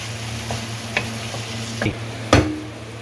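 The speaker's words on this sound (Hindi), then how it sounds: "मसाले के अंदर अरवी को मिक्स करें" Fried arvi pieces being mixed into masala in a pan: a few sparse spoon knocks and scrapes against the pan over a faint steady sizzle and background hum.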